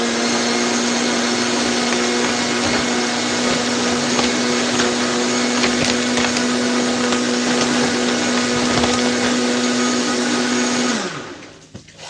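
A kitchen blender runs loud and steady for about eleven seconds, then winds down and stops abruptly near the end, with no voices over it.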